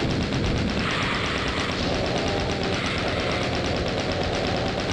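Dense, rapid gunfire from the classic Doom 2 game fires in continuous bursts, loud and steady throughout with no talking.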